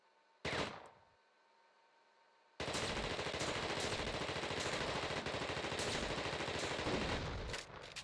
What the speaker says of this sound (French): Ouais, j'ai activé la tourelle, c'est bon.